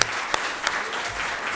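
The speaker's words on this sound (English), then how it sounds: "So give yourself a round of applause." Steady applause fills a hotel function room at a football club's end-of-season awards night: a dense, continuous crowd of clapping hands from start to end, with no speech over it.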